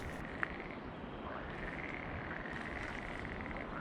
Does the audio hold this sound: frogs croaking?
yes